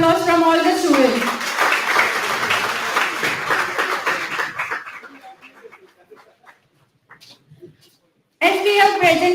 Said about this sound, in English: I just want to hear the huge round of applause from all the students.